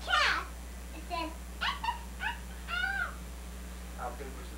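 A voice imitates a cat meowing, a string of about six short, high, whiny meows at uneven intervals, fairly faint over a steady low hum.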